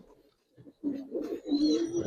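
Pigeons coo in short, low rolling phrases, a few bursts rising and swelling toward the end, quiet and close against near silence.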